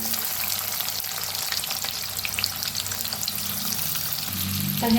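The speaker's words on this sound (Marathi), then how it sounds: "आता आपलं तूप बी तेल बी चांगलं गरम झालेलं आहे त्याच्यात टाकूया लसूण त्याच्यात टाकूया कांदा" Garlic and onion dropped into hot ghee and oil give a loud, dense, continuous sizzle up close, holding steady for a few seconds and swelling slightly at the end, with no talking.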